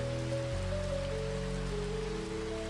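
Steady rain falls without a break, a dense even hiss of drops spread over the whole clip, with soft low tones running underneath and no voices.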